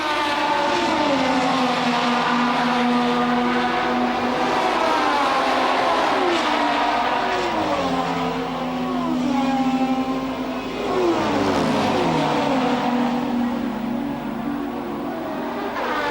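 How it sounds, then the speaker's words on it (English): Ayrton Senna's Formula 1 car at Imola in 1988, its engine screaming loud and close as it accelerates uphill out of Tosa, the pitch climbing through repeated gear changes. "Ayrton Senna round Tosa for the last time, accelerating up the hill."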